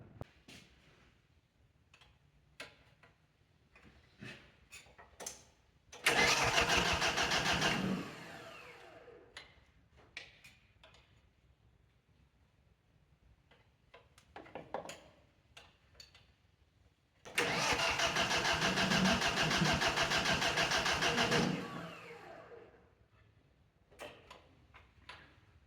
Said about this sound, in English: you crank the engine until you start to see diesel come out from here, and then you lock them off, obviously, and then it should fire